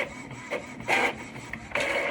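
An Epson ET-2720 inkjet printer prints a page, its mechanism whirring and shuttling in repeated loud, close passes with brief pauses between the strokes.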